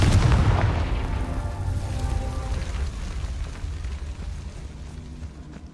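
A Confringo spell blast in the game Hogwarts Legacy, a deep booming explosion that hits hard at the start and then rumbles and slowly fades over several seconds.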